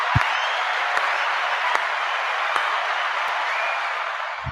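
Applause from a crowd comes through as a soft, even wash of clapping throughout, with a few sharper isolated claps or knocks standing out near the start and at intervals.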